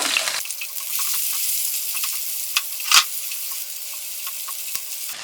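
Chopped onion dropped into hot oil with asafoetida and dal starts a sudden, loud sizzle that holds steady, with a few sharp taps of a spoon against the pan over it.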